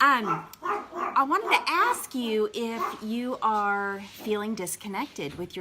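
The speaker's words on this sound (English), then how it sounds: "Sorry about the dogs." Dogs bark and yip indoors in short bursts beneath someone speaking continuously, close and moderately loud during a home live stream after a mail delivery.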